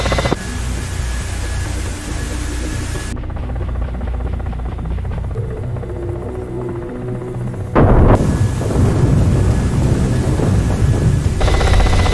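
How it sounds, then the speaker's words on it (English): Bombs explode during a combined air and ground mission in the DCS World combat flight simulator: a continuous heavy roar of blasts and rumble, with a sharp, loud burst near the end and no voices. "You have bombs raining on you."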